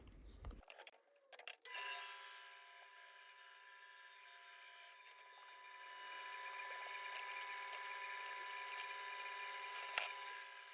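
Radiator vent pieces for a Subaru-powered Covin Porsche 911 replica are cut down with a power cutting tool, a steady, bright, whining grind running continuously after a few short knocks and rattles at the start.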